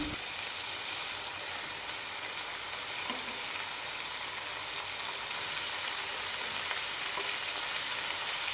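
Chicken sizzles and fries steadily in a pan during home cooking of chicken sukka, a constant close hiss with light scraping from stirring and no voices.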